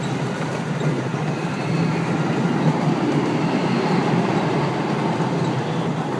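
A ride train runs beneath a roller coaster, giving a steady, close rolling rumble with faint rail clatter that grows slightly louder partway through, with no talking.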